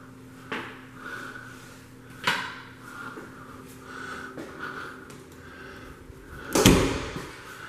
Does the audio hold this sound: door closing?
yes